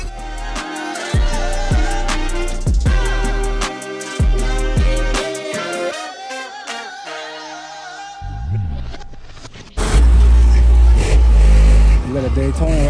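A car engine revs loudly at a car show, with bursts of throttle and deep exhaust roar rising and falling over about thirteen seconds, alongside loud music and background noise.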